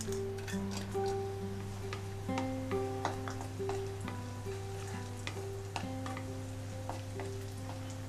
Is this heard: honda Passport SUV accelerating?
no